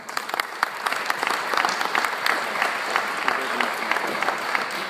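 Symposium audience applauding to welcome a presenter at a transit service analysis talk: steady, dense clapping from a crowd that holds for the whole stretch.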